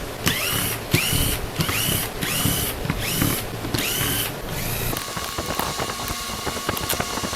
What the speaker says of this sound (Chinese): 底部这边有一个插销，我们把它拔起来，然后把所有螺丝拆掉。